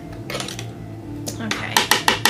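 A spoon stirs dry biscuit ingredients in a bowl, with scraping and clinking against the bowl that grow into several louder knocks toward the end, under quiet background music.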